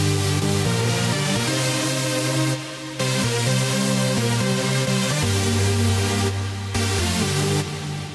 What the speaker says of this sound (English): For the main melody, use some big chords and a super saw.